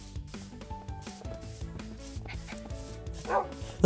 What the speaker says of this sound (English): That's a lot of dogs.